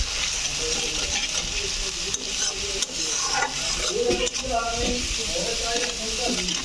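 Spices with salt and turmeric are stir-fried in oil for a fish-head curry with greens, giving a loud, steady sizzle with occasional stirring scrapes while people talk over it.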